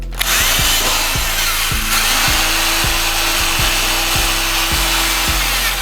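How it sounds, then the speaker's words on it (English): A power drill whirs steadily during a car rear diffuser install, its motor pitch stepping up and down in short repeated bursts, close and loud with no talking. "Just gotta drill in the right side."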